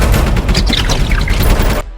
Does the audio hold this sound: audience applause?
no